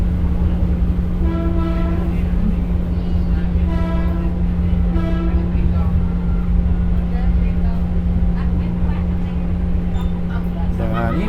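A Batara Kresna passenger train rumbles steadily along tracks running beside a main road in Solo, with a constant low drone, its horn sounding in a few short blasts.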